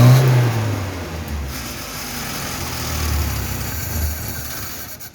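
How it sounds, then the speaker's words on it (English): A 1974 Citroën DS21, unstarted for over six years, fires up and keeps running with a steady mid-pitched engine drone, louder at the start and holding an even, slightly rough note throughout. "Yeah, starts, runs, suspension came right up."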